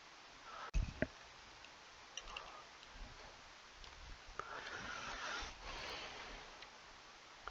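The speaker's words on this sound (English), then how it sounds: "Typing in the dark here." Keyboard typing in a dark room, a run of faint, irregular clicks and taps with a couple of sharper knocks near the start, all quiet and up close.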